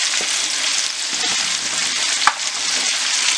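Onions and garlic sweating in a chicken casserole pot, a steady close sizzle of frying that holds throughout, broken by a faint scrape and one brief clack, with no voices.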